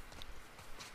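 A brief, quiet run of horse hoof clip-clops in The Last of Us Part 2, a few even strikes at a walking pace, heard alone.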